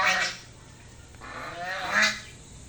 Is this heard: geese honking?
yes